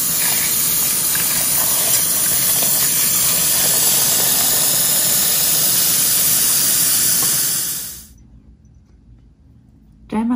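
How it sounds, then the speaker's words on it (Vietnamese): Tap water runs over fresh mangosteens, a loud, steady gushing hiss that cuts off abruptly near the end, leaving near silence. "Mình mở nước ra rửa các bạn."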